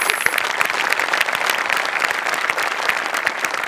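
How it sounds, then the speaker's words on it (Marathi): A studio audience for a Marathi comedy sketch show claps loudly and steadily, a dense, sustained applause with no speech. "टाळ्या वाजवू."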